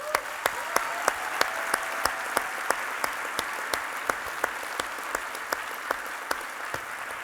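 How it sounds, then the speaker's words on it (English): Quiet, fairly distant audience applause at an awards event, heard under a steady hiss, with a few sharper individual claps standing out at a regular pace. "please join me to give them a round of applause"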